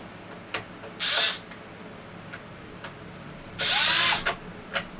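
A power driver backing screws out of the rear differential of an Arrma Limitless RC car, two loud close whirring bursts about a second long each, separated by faint clicks and taps.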